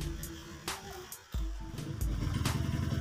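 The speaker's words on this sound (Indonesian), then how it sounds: "Sekarang kita coba nyalakan bentar." A Honda Vario 110 scooter with fuel injection starts up during servicing, a brief starter whir followed by the engine catching into a steady idle rumble, close and fairly loud.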